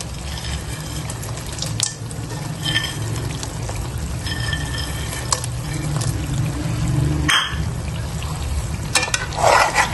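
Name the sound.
adding dry fruits to frying makhandi halwa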